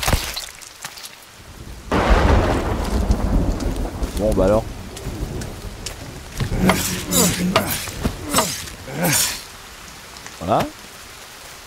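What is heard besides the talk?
rain and thunder in the video game Sons Of The Forest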